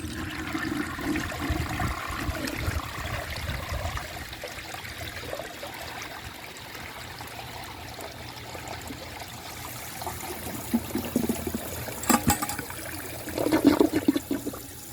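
A 1968 Montgomery Ward Waco toilet flushes a washcloth, with a loud rushing surge of water that settles into a steady trickle before gurgling bursts near the end as the bowl refills.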